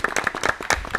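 A small studio audience on a French auto-moto television set claps as a guest arrives, a short burst of a few distinct, fairly close hand claps in an uneven rhythm.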